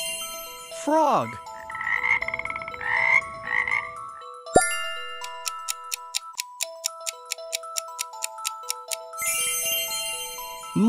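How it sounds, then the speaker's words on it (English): A frog croaks in a raspy pulsing run near the start, followed by steady ticking clock-like beats and tinkling music. "Frog."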